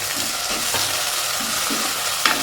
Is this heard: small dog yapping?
no